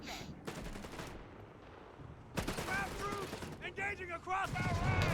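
Bursts of machine gun fire and other gunfire in Company of Heroes 3 during a multiplayer match, rattling volleys in the distance under a commentator's continuous talk.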